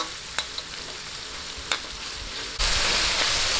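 Thin, wide slices of pork belly liempo frying in a pan for pansit canton, crackling softly with a couple of sharp pops, then bursting into a much louder, denser sizzle partway through.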